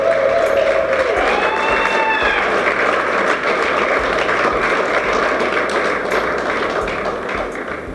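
Steady applause from a ceremony audience at a hotel congress hall, a continuous even wash of clapping with a brief high whistle-like tone near the start.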